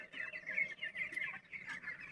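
Twenty-day-old chickens cluck and peep in a faint, continuous chatter, the small birds calling close together without pause and no voices over them.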